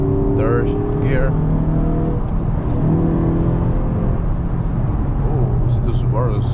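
A 2018-or-later Toyota Camry accelerates in third gear, a steady mid-pitched engine drone with rising whir heard from inside the cabin, and a person speaks briefly over it.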